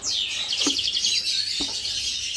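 Budgerigars chirp continuously in a breeding cage where the first chick has just hatched, a dense, loud, close chatter with a couple of brief knocks underneath.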